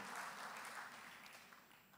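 An audience at a political conference on labour in Europe applauds from a distance, a soft, steady wash of clapping that stays faint and even throughout, with no voices over it.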